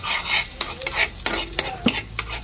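Ginger browning in a hot pan, sizzling and frying steadily while a utensil stirs and scrapes in quick repeated strokes, close and fairly loud.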